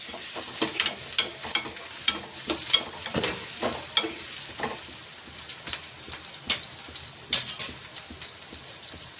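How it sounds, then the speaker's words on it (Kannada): Onions fry in oil in a home kitchen and are stirred, giving a soft continuous sizzle with repeated spoon scrapes and taps against the pan, close by with no talking. "ಈರುಳ್ಳಿ ಒಂದು ಸ್ವಲ್ಪ ಫ್ರೈ ಆದ್ರಿ."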